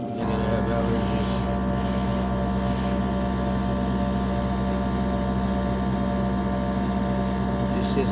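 A Gaahleri Turbo Mini X airbrush compressor runs with a constant, even mechanical hum and whir, steady and unbroken for the whole stretch, close to the listener with no sputtering.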